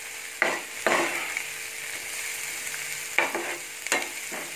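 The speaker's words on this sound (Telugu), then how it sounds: "ఇలా తిప్పుకోవడం వల్ల ఏంటంటే కొంచెం ఆనియన్ మాడకుండా కూడా ఉంటుంది కదా" Onions fry on high flame for chicken curry, a steady sizzle broken by several sharp scraping strokes of a spatula stirring the pan, close and clear with no speech.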